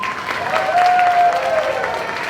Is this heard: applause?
yes